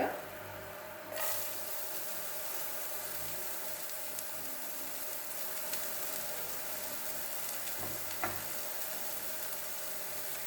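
Vegetables temper and fry in a pan for homemade idiyappam kottu, a soft continuous sizzle close by with occasional stirring scrapes and clinks.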